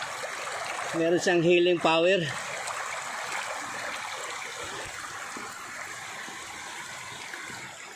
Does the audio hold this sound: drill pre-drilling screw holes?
no